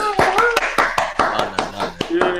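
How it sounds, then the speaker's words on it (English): A few podcast hosts clap in a studio, close, sharp irregular hand claps in a quick burst with voices cheering and talking between the claps. "Give us a round of applause, people."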